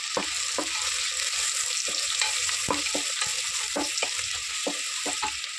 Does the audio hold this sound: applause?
no